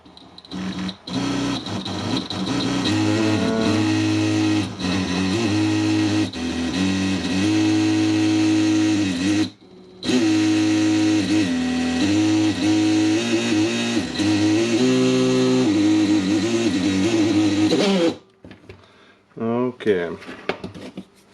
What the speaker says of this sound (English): And now I can try the tool.